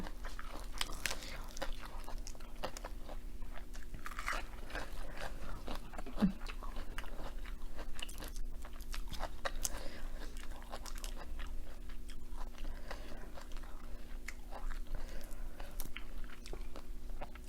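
Steamed shrimp and papaya salad being bitten and chewed close to the mic, with soft steady crunching and mouth noises running on over a low background hum.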